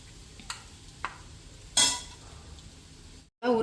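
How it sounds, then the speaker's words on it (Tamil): Cashews and raisins frying in ghee, a soft low sizzle with a few sharp clinks of a spoon against the pan, one louder scrape, and a brief cutout near the end. "இப்போ பாயசத்துக்கு தாளிக்கிறதுக்கு நெய்யை ஊற்றிண்டு முந்திரி பருப்பு திராட்சையை தாளித்து போட்டுடலாம்"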